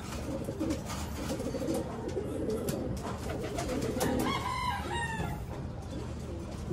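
Pigeons coo softly in a low, rolling murmur against steady background noise, with a rooster crowing faintly partway through.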